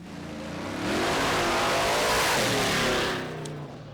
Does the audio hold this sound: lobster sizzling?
no